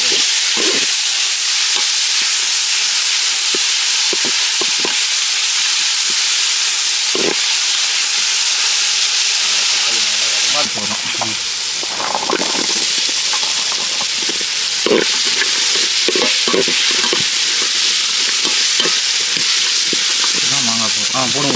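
Mango pieces sautéing with salt in a pan in a village kitchen give a loud, continuous sizzle and hiss, with occasional stirring scrapes and clinks and some talk mixed in.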